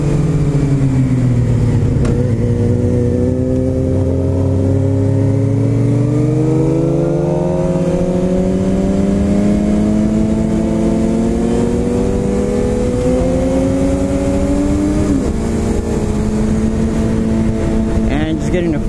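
A 2016 Suzuki GSX-R 600 sport motorcycle runs on a demo ride from an Orange County dealership. The loud, continuous engine drone rises and falls in pitch as it accelerates and shifts, with rushing wind throughout.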